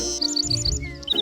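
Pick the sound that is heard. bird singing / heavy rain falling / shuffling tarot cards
bird singing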